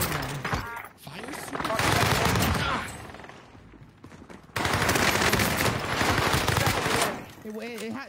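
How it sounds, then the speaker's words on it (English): Video game combat: rapid bursts of automatic gunfire and booming airstrike blasts in two loud waves, separated by a brief lull, with a voice speaking faintly at the end. "Here's the target for airstrike."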